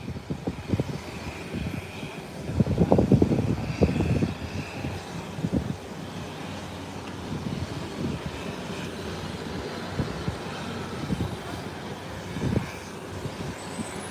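A JetBlue airliner taxis on an airport runway toward its turn, its engines a distant rumbling drone that swells briefly, then settles into a steady low roar.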